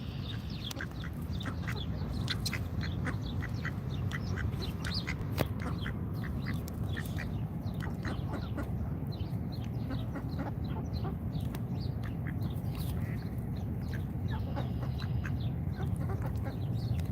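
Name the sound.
ducks quacking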